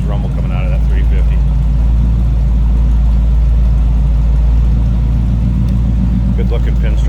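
A 1939 Oldsmobile Series 60 sedan with a 350 engine idles with a steady, loud, deep rumble throughout, close by and continuous.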